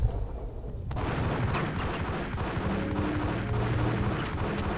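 Rapid pistol gunfire in the Max Payne video game, a dense barrage of shots and booms with layered game effects, loud and continuous after a quieter opening second.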